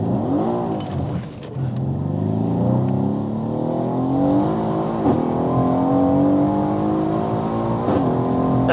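A heavily modified Mercedes C63 AMG making 830 horsepower accelerates hard with traction control off, its engine roaring and climbing through the revs, loud and continuous from inside the car.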